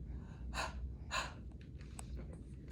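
Two forceful breathy exhalations, like huff coughs, come close together, followed by a few softer breaths and small clicks.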